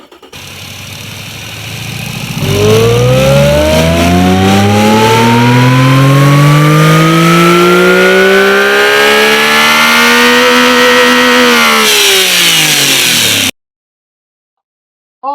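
Supercharged, twincharged 1.6-litre inline-three engine in Automation catches and climbs in a loud, rising rev with a whining pitch, holds high for several seconds, then drops back before cutting to silence.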